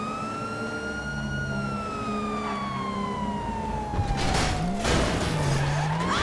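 A wailing police siren in the video game GTA V sweeps slowly downward in pitch, joined by engine noise and a tire skid, with no speech.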